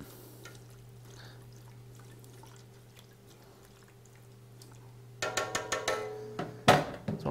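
A spoon stirs paleo mushroom soup with chicken stock in a pot, starting with faint low clinks and then turning into a quick run of sharp scraping and sloshing strokes near the end.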